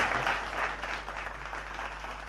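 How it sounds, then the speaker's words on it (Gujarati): An audience at a student award ceremony applauds, a dense, steady wash of many hands clapping from a distance, continuous and even in level throughout, with no voices standing out. "તાળીઓથી વધાવીએ આપણે"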